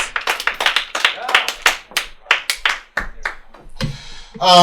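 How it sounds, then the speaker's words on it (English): Sharp, close, individual hand claps in an irregular burst at a live comedy club, loud and distinct, followed by a short stretch of crowd noise and a voice. "Give a round of applause."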